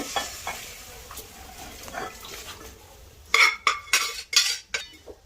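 Pressure-cooked goat head curry gets stirred in a pan, with soft sizzling and quiet scraping, then a run of loud metallic spoon clanks and scrapes against the pan near the end.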